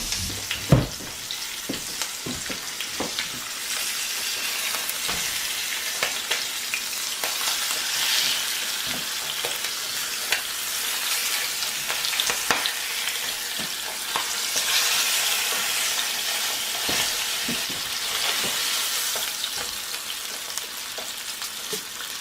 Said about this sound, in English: let our skin get a little seared